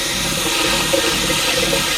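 Toilet in a camper flushing as water rushes into the bowl during winterizing, a steady close hiss of running water with slight gurgling swells, no voices.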